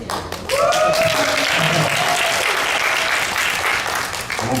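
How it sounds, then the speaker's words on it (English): Sustained audience applause at a live forum fills the room, a dense, loud, even wash of clapping that holds steady for several seconds with a brief voice at the start. "I won't stop the applause"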